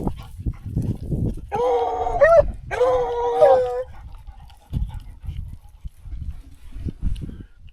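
Hunting dogs baying and howling outdoors at dusk near a gut pile, two long drawn-out howls rising and falling at mid-distance over rustling and a voice.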